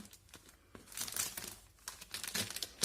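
Plastic packaging crinkles and rustles close up in irregular bursts, loud and crackly, with no talking.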